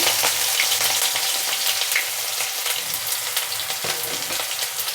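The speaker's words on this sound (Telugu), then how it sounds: "ఆయిల్ హీట్ ఎక్కింది ఇప్పుడు మనం ఇందులో ఉల్లిపాయ ముక్కలు" Onion pieces frying in hot oil in a kadai, with some ginger-garlic going in too, give a steady loud close sizzle and crackle throughout, with occasional stirring scrapes.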